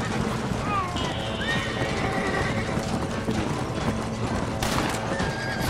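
A horse in the Red Dead Redemption video game whinnies amid clopping hooves, set against a busy, continuous game soundscape with a voice talking over it.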